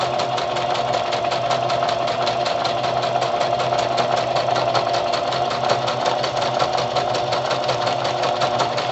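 A sewing machine stitching a pocket onto a gratitude journal in black thread, giving a steady, rapid mechanical chatter of evenly spaced needle strokes, close and continuous with no pauses or talk.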